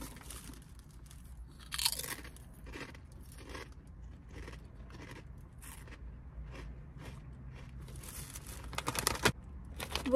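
Little crisps from an Asian market are crunched and chewed close to the mic in a quiet room, with a string of sharp, irregular bites and munching and no talking.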